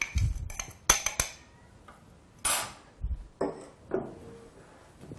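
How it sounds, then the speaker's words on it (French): Bath bomb ingredients mixed in a bowl, a series of irregular clinks and knocks of utensil against the bowl with short scraping bursts in between, close by and with no talk. "On va bien mélanger."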